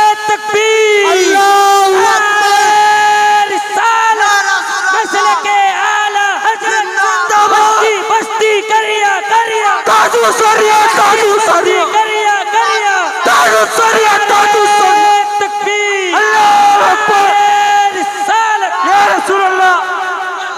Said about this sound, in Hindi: नारे तकबीर, नारे रिसालत, पूरा मजमा खड़े होकर इस्तकबाल करे